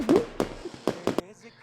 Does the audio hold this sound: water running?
no